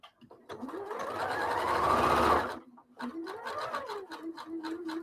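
Domestic sewing machine running a zigzag stitch, a steady whirring buzz for about two seconds, then pausing and resuming in shorter rhythmic bursts, close and fairly loud with no talking.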